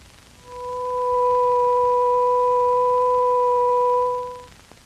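A steady pure electronic tone with a second, higher pitch layered on, held evenly for about four seconds before fading out.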